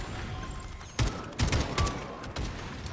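Video game gunfire from Atomic Heart: a few sharp, close bursts of shots land in irregular succession over a steady background rumble.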